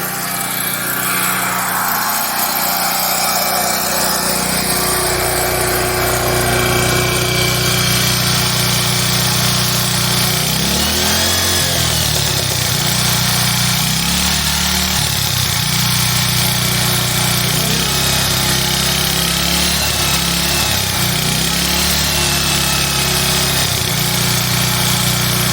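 A generator engine runs steadily and loudly throughout, a constant droning hum with some wavering in pitch and load, heard close with no talking over it.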